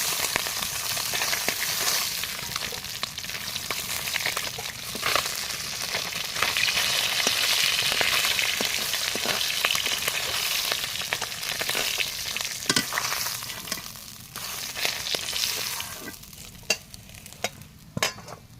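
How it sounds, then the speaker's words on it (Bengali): Silver carp pieces frying in hot oil give a dense, continuous close-up sizzle with scattered pops and clatters of the pan, easing slightly near the end; no talking. "এবারে আমি বাকি মাছগুলোও দিয়ে দেবো।"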